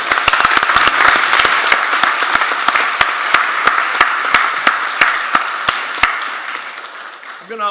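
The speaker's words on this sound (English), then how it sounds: "Let's give them a round of applause." An audience at a school district board meeting claps for students, a sustained round of applause with sharp individual claps standing out near and loud, fading slightly toward the end.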